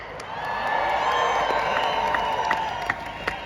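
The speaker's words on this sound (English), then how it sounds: "Please make some noise for Rafeef Ziadah." Large rally crowd in London cheering, whooping and applauding, a sustained dense roar with scattered sharp shouts rising above it, filling the whole stretch at close range.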